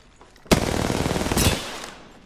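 A burst of rapid automatic gunfire in Apex Legends, two loud clustered volleys about a second apart that then trail off, close and without any voices.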